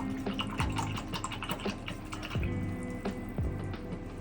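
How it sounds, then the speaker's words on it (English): An acrylic paintbrush swished and rinsed in a water cup, a steady watery sloshing with repeated soft knocks and drips against the container, close and continuous with no talking. "Okay, so go ahead and rinse off your detail brush."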